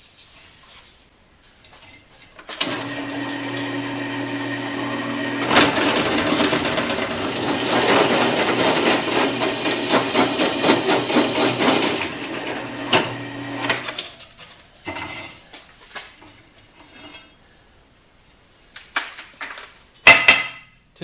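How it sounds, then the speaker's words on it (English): A power drill whirs steadily through metal drilling a 5/8 inch hole for a lawn roller hitch for several seconds, then spins down, followed by some clattering handling noises and a sharp clink at the end. "I'm going to drill a 5/8 hole."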